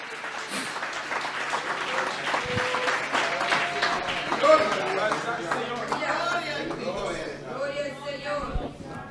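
Church congregation clapping at a general vigil in Bonaire, a steady dense patter of hands with murmuring voices and some cheering mixed in, fairly close and sustained throughout.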